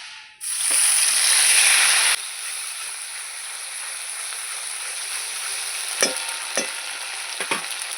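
Ginger, cumin, garlic and onion paste hits a hot pan for an egg barfi curry, bursting into a loud sizzle that settles into a steady frying hiss, with a few sharp stirring scrapes near the end.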